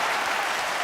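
A studio audience applauds in a brief, dense burst of clapping at steady loudness, less than a second long.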